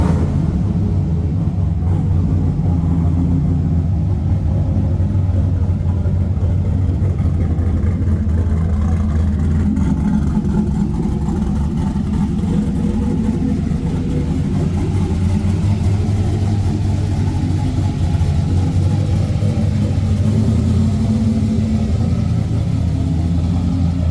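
A classic car engine hums in a steady, loud, low rumble while cruising toward the Pacific Coast Highway in Malibu, holding an even drone throughout with no voices.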